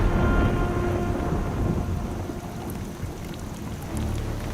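Thunder rumbles low and steady beneath a broad hiss of heavy monsoon rain on an African mountain trek, one continuous loud stretch with no voices.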